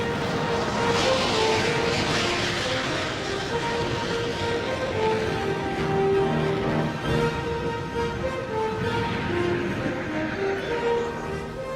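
An early jet fighter aircraft flies with a loud sustained roar and whine, holding steady tones that shift slightly in pitch as it passes.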